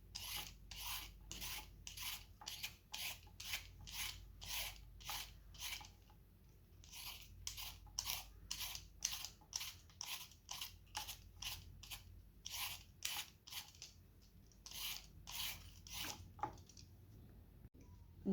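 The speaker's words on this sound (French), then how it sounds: "On va éplucher les légumes." Vegetables being peeled for homemade baby food, a steady run of short raspy scraping strokes, close and fairly loud, repeating quickly with only brief pauses and no talking.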